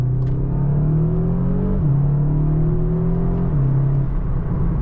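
A 300 hp Seat Leon ST Cupra accelerates away hard, its engine note climbing through the gears with quick upshifts, a strong close whirring rise heard from inside without talk.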